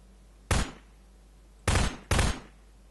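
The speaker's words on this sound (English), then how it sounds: "Is that gunfire going across the alleyway?" Three sharp gunshots ring out in the Garry's Mod Prop Hunt video game, one alone and then a quick pair, loud and close with short decaying tails.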